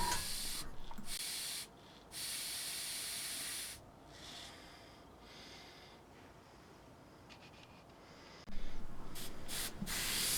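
Airbrush spraying paint held very close to the surface: soft airy hissing bursts that start and stop in short intervals, faint and near, with quiet gaps between sprays.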